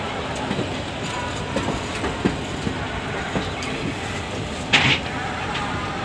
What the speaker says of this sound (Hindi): ये आप देख सकते हैं सामने पुष्पक एक्सप्रेस जा रही है मुंबई टू